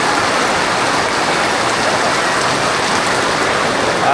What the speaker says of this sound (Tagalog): Maraming ulan, no?